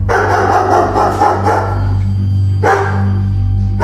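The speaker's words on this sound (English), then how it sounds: "But our conversation was interrupted by the sound of my Maltese, Sammy, barking loudly at the sliding glass door which led to my backyard." A small Maltese dog barks repeatedly and loudly close by at a sliding glass door, with short yappy bursts over a steady low hum, then a pause before a final bark.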